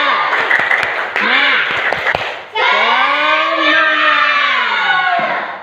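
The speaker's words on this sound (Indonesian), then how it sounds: "Oke, tepuk semangat." A classroom of students does a rhythmic spirit clap, a burst of quick patterned claps mixed with loud group chanting and children's voices that continues steadily to the end.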